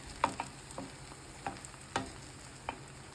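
Shami kababs fry in a pan with a quiet, continuous sizzle, broken by a few sharp clicks and taps spaced irregularly, heard up close without any voices.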